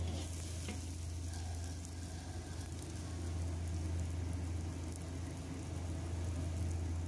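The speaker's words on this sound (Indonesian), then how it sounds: "Daun bawangnya tak tumis dulu, baru semuanya udah mendidih baru tak masukkan." Chopped scallions stir-fry in hot oil in a pan, a steady close sizzle with crackling and occasional stirring that holds at an even level throughout, with no talking.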